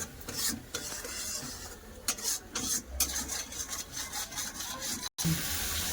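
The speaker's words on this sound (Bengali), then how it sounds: "ভালো করে মশলাটাকে কষে নেবো তেল ছাড়া পর্যন্ত" Close, scraping stir and rasp of a spatula working spice paste with cumin and turmeric powder through hot oil in a pan, repeated rhythmic strokes over a soft sizzle, with one brief dropout near the end.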